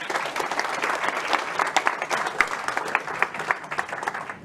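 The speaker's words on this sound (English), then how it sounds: "Please put your hands together for Manolo" Audience applause at a corporate capital markets day presentation, a moderate room of people clapping with distinct individual claps, fairly close and sustained for several seconds.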